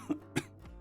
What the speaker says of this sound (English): followed by some coughing.